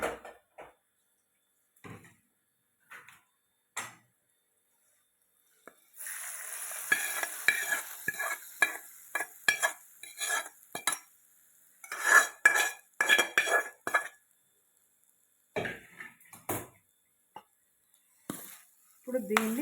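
Tempering poured into raw mango pulihora in a pan, then stirred: a brief sizzle and scraping spoon clatter against the pan, intermittent and close, with short gaps of quiet.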